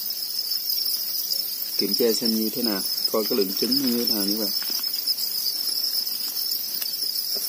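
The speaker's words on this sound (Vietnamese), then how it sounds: "Các bạn những con dế rất là mập." Thai field crickets in a breeding tray chirp in a steady, loud, high-pitched trill that runs throughout while someone talks briefly over it.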